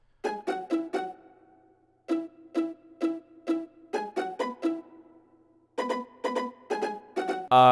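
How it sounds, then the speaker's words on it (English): Plucky pizzicato string accent in a 90s R&B beat, playing quick bursts of short repeated plucked notes in groups with brief gaps between, close and bright, no talking. "Then, guys, I threw in this little like accent pizzicato string,"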